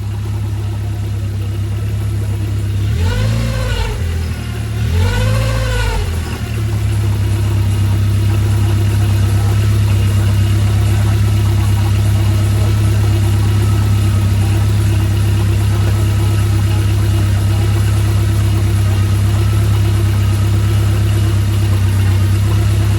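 A Ford Escort Cosworth engine idles steadily and loudly, with a constant low hum and an odd noise that seems to come from the front. Two short rising and falling swells come through near the start, and no one speaks.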